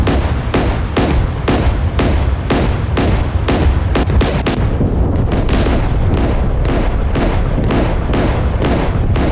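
The Grisha V corvette's deck gun fires rapidly in DCS World, a fast, regular string of heavy booming shots over a constant rumble.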